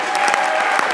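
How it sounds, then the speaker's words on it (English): An audience at a New Year's Eve comedy show applauds and cheers as a comedian is brought on stage, a dense, loud wash of clapping held steadily throughout. "put your hands together, make some noise for my boy Justin Rivera"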